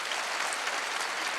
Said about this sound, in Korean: 믿는 사람만 박수 주세요.